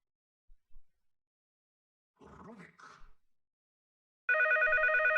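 A Steam chat call rings loudly and steadily near the end, a harmonic electronic ringtone during a Dota 2 league match broadcast, after a stretch of near silence and brief muffled voice sounds.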